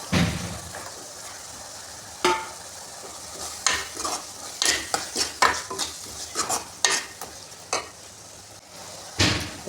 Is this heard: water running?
no